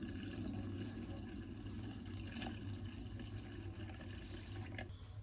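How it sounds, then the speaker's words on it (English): Water runs steadily into a DIY hydroponic bucket, filling it to submerge jalapeño seeds; a continuous close splashing wash with no talk. "just gonna add the water so that the seeds will definitely be submerged"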